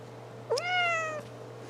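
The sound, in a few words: cat meowing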